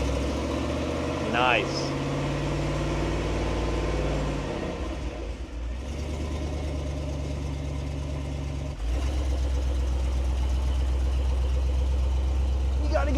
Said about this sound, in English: we have a Soviet-era four-wheel drive van in the USA, and we're gonna see what it drives like off-road.